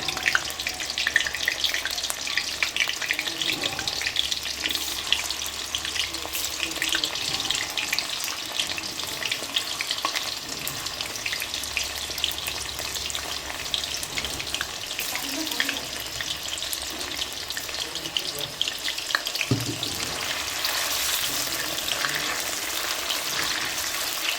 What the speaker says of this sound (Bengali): এখানে পনিরগুলো ভেজে নিচ্ছি আমি।